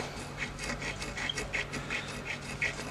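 A file rasps back and forth in a guitar nut slot, a steady series of short, close rubbing strokes in even rhythm with small squeaky scrapes, alone without talk.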